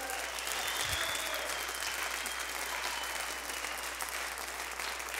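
Church congregation claps loudly and continuously, a steady dense roar of applause filling the room from start to finish.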